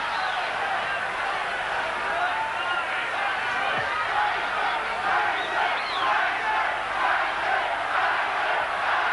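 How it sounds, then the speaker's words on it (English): A boxing crowd jeers through the last round of the Mike Tyson vs James Smith fight, a steady, loud roar of disapproval that fills the arena without a break. "there's jeering coming in the last round"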